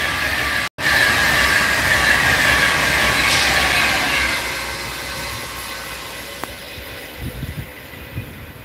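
A Class 390 Pendolino electric train passing through Rugeley Trent Valley station, a loud sustained roar and whoosh at close range that slowly fades, ending in lighter rattles and clicks.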